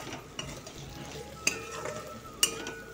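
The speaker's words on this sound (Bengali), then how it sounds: "কষিয়ে নিচ্ছি ভালো করে আর এক হাতে তো কড়াইটা ধরাই যাচ্ছে না প্রচুর নড়ছে কড়াটা" Chicken pieces are stirred and sautéed in a kadai, giving a soft sizzle with occasional sharp clinks and scrapes of the spoon against the pan.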